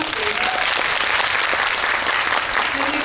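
Moviegoers in a Megabox Coex cinema hall clap loudly and continuously for two guests during a post-screening guest visit for the film Revolver, a thick, even roar of applause with faint cheers.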